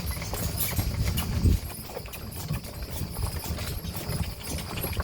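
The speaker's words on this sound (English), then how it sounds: "a horse-drawn carriage ride through the vineyards" Horse hooves clip-clop steadily as a horse-drawn carriage rolls through Tuscan vineyards, a rhythmic close clatter with a brief louder thump near the start.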